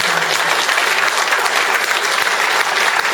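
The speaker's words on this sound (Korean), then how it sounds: "대중들의 큰 박수" Dense, loud applause from a large crowd at a New Year greeting ceremony, continuous clapping holding steady throughout with no talk.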